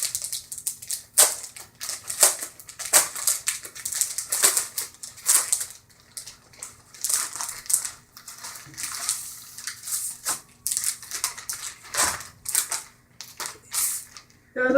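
A shiny poly mailer package is handled and torn open, a run of crisp crackling and rustling plastic with sharp irregular bursts, close and fairly loud, without talk.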